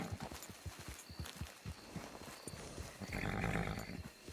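Horse hooves clip-clopping at a walk in the western game Red Dead Redemption 2, a steady close rhythm of soft hoof beats on dirt, followed by a louder rushing swell near the end.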